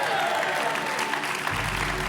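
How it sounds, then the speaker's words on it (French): Studio audience on a French TV game show applauds a banker's offer, a loud, sustained roar of clapping from many people that carries on throughout, with a low rumble rising near the end. "Vous faites bien d'applaudir."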